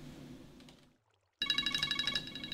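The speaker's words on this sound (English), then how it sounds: "That's my phone ringing." Phone ringtone starts abruptly after a brief silence, a loud, bright repeating ring pulsing close by, with faint game sounds before it.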